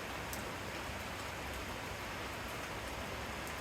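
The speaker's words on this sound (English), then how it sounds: "Just nice to be getting a bit of rain." Rain falls steadily in Coos Bay, Oregon, a constant soft hiss of drops on surfaces with no pauses or talk, heard from close by.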